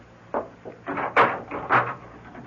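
Door handling in an old radio mystery drama: a latch click followed by a few soft wooden bumps and knocks as the door is opened and shut, moderately close, with no talk over it.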